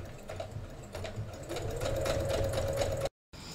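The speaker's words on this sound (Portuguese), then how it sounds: "Eu vou costurar, tá?" Sewing machine stitching along a traced line on raw cotton fabric for a handmade angel doll body, a steady close mechanical whir that speeds up midway and runs continuously before a brief stop.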